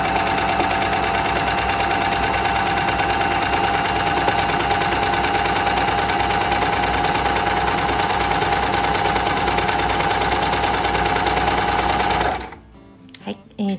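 An overlock serger stitching fabric runs continuously with a fast, even mechanical chatter, loud and close, then stops abruptly near the end, leaving brief small clicks.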